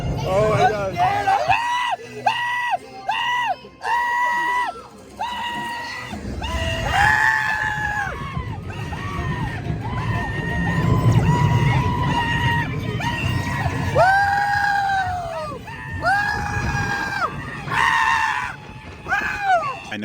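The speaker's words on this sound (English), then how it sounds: "You're screaming and having a fun time." Riders on the Incredicoaster roller coaster scream loudly and continuously, with overlapping high-pitched yells and shrieks rising and falling over rumbling ride noise for the whole stretch.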